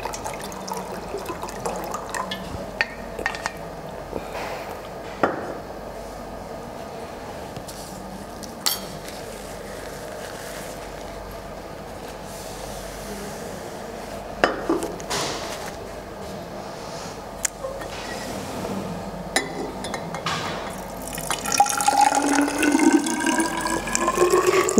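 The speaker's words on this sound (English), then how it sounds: "I will take 250 milliliter from my diluted acid by pouring it into a beaker." Diluted acid pours from a volumetric flask into a beaker during an oxidation-reduction titration lab, a steady liquid trickle with scattered clinks and splashes that grows louder toward the end.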